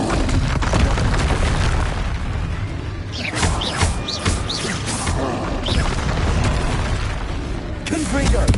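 Blasting spell explosions in the Hogwarts Legacy video game, a run of booming crashes and bursts mixed with other spell effects, with a voice shouting spell names over the combat.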